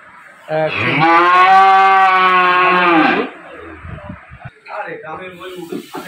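A Holstein-type dairy cow gives one long, loud moo lasting about three seconds, close by on a dairy farm, followed by someone talking.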